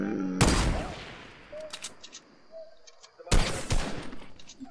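Sniper gunfire in a battle royale video game, two loud sharp shots about three seconds apart, each followed by a decaying tail, with faint game sounds and brief speech between them.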